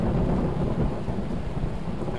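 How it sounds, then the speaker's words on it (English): Rain and rolling thunder in Skyrim form a dense, heavy rumble over a steady wash of falling rain, loud and unbroken throughout. "And there goes the rain anyway."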